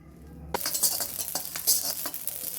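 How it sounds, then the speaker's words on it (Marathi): Whole spices and kasuri methi dry-roast in a pan for a homemade red chilli powder, heard as a spatula stirring and scraping with light rattling of seeds, close, starting abruptly after a quiet moment. "कसुरी मेथी हा खडा मसाला सगळा भाजून घ्यायचा"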